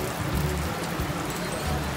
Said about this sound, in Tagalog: Actually, umuulan ngayon.